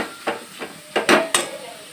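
Khoa being heated and stirred in a kadhai: a soft background sizzle broken by several scraping, clattering strokes of a spoon against the pan, irregular and close, with no talking.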